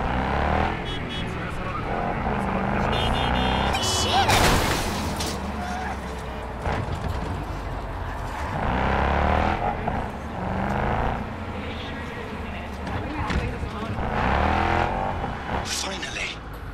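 A car speeds through the streets of Cyberpunk 2077, its engine roaring steadily with surging bursts and occasional tire squeal, while voices talk over it throughout.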